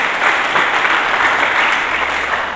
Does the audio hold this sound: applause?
yes